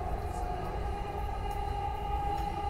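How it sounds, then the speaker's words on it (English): A Dubai Metro train rumbles steadily through a station, a constant low drone with a sustained whine riding above it, moderately loud and unbroken, heard from the platform with no talk. "Now at the metro, waiting for the metro."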